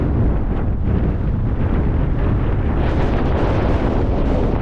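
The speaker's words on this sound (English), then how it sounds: "this wind's getting worse" Strong wind buffets a wild camp in the open, a loud continuous roar of gusts rumbling against the microphone with no let-up.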